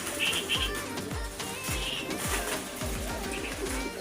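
Low, repeated cooing of pigeons at a pet market in Kuwait, several calls in a steady rhythm, close by over a busy background hum.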